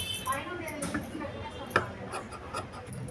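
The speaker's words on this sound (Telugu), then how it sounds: "ఇలా తీసుకున్న తర్వాత ఇది మొత్తం కట్ చేస్తున్నాను" Fabric pieces being cut by hand for blouse sleeves in the Krishna Mukunda Murari style: soft, close scraping and snipping with irregular rhythm, one sharper click partway through, and a faint background murmur.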